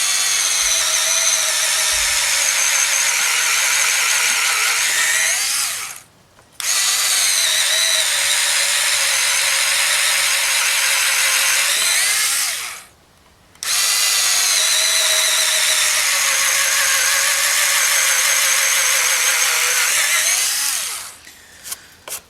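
A cordless DeWalt DCF680 or Hitachi DB3DL screwdriver runs on high speed in drill mode, giving a loud, steady high whine in three long runs separated by brief pauses, with no talking.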